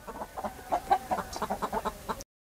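A Bapatla fighting rooster of the Bevaram breed clucks in a quick, steady series of short, low calls close by, stopping abruptly at the end.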